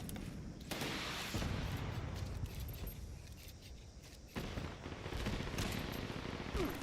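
Video game gunfire comes in dense, rattling bursts of rapid shots, with a brief drop in intensity before another sustained volley. It sits fairly faint in the mix.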